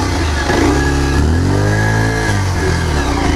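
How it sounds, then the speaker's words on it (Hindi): A 2024 Bajaj Pulsar 125 motorcycle engine revs loudly up close, its pitch rising and falling steadily through the whole stretch. "तो चलो पहले गियर में डालते हैं बाइक"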